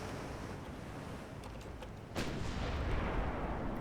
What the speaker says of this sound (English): Another fire, that was a big 10-inch hit.